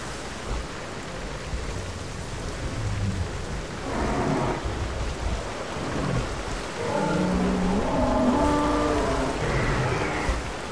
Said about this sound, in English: And it's just started to rain annoyingly